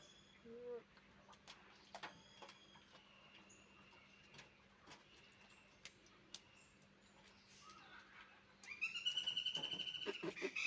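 Faint, scattered bird chirps in a quiet outdoor space, ending with a louder burst of rapid bird calls.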